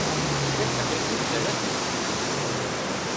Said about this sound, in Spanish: ese es el río Aruncay en estos inviernos ecuatorianos 2017